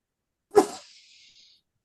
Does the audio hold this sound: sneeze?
yes